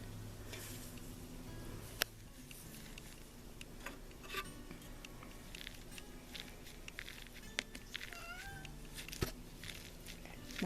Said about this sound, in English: My cat's begging for attention.